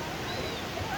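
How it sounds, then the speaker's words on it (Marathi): Mormarewadi waterfall near Kamshet in the monsoon, a brief, steady, dense roar of falling water close by, with no voices over it. "आणि इकडे आहे वॉटरफॉल."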